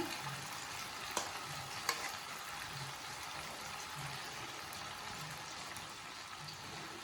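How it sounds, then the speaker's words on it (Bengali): Fish oil bladders (tel potka) cook in a pan with potato and eggplant, giving a continuous soft sizzle and bubbling with a couple of sharp clinks of a utensil, close and fairly quiet. "এগুলোকে একটু ভাজা ভাজা করতে হবে।"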